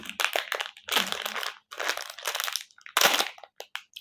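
Plastic packaging crinkles and rustles in repeated bursts, close up, as a package is handled and torn open; no talking.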